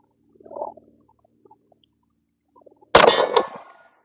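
A Glock 45 pistol fires at a steel target 25 yards away, giving one sharp, loud shot with a ringing clang, after faint clinks and small noises in an otherwise quiet stretch.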